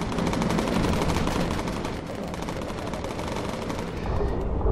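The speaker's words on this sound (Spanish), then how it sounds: "Cuidado, cuidado con esos disparos." Dense, continuous machine-gun fire from a bomber's defensive turrets in the World War II flight game Bomber Crew, rattling loud and close for the whole stretch with rapid overlapping bursts and no pauses.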